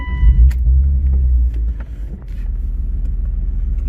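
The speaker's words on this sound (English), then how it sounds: "Now let's turn the car back on" The engine of a supercharged BMW E36 325is catches and settles into a low, steady rumble, close by, with a brief louder burst at the start.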